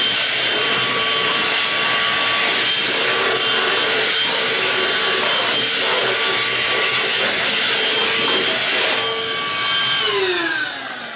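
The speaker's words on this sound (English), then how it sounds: "So let's give this a try. Ooh, it's got some strong suction." Homasy handheld cordless wet/dry vacuum running continuously at close range while picking up peanuts, a steady loud whirring drone whose pitch drops as it winds down at the end.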